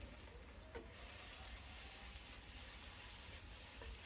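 Ginger garlic paste frying with browned onions for prawn biryani, a faint steady sizzle and hiss in a pan with a couple of soft utensil taps, no talk.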